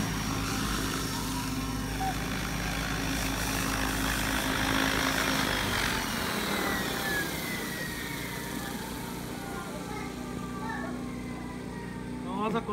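A Goblin Black Thunder 700 radio-controlled helicopter runs nearby with a continuous whining drone of rotor and motor that swells slightly midway and then holds steady.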